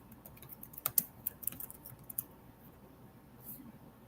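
Quick, irregular keystrokes on a computer keyboard while code is being entered, a cluster of sharper clicks in the first couple of seconds that thins out toward the end, fairly close and moderately quiet.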